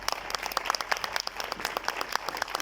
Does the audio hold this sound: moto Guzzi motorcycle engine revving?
no